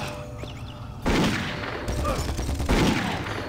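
Enemies firing weapons in the game Doom 3 BFG Edition: dense, loud bursts of gunfire that begin abruptly after a quiet second and continue in overlapping volleys, with no talking.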